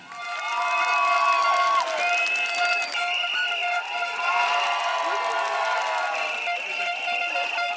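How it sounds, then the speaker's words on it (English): Cheering, whistles and applause rise from a large outdoor crowd at a Singapore political rally in Nee Soon, a loud, dense wall of sound lasting throughout. "Give them a round of applause."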